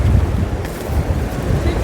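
Sea waves wash and rumble along a coast on a hike in Ubara, with steady wind buffeting the microphone in a loud, continuous roar.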